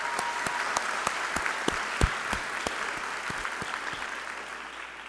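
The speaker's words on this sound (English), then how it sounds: "Let's give those students a round of applause." An auditorium audience applauds high school students at an education excellence celebration, a steady wash of clapping with a few sharp individual claps standing out throughout.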